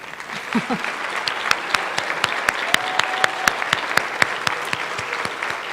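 A school audience applauds at an eighth grade academic awards ceremony, with sharp individual claps standing out against steady clapping from a moderate crowd.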